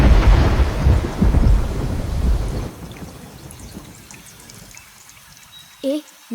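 Heavy thunder rumbles loud and close over steady pouring rain near a fishing spot by a river, then fades to softer rain with scattered drops and a brief burst of voices near the end.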